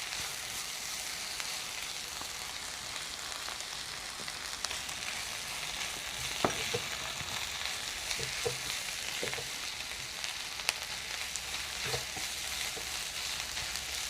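Crushed ginger and green chilies sizzle with onion in a hot pan, a steady crackling fry with faint stirring scrapes and no talk.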